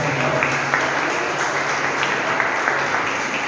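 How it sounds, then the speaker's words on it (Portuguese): Church congregation clapping together at a Sunday missions service, a steady, dense wash of applause sustained throughout, fairly loud and close with no talk over it. "Uma salva de palmas para o Senhor."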